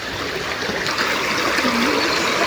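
A clear, cold stream flows at a natural waterfall, making a close, continuous rushing and gurgling with splashy trickles and no talking.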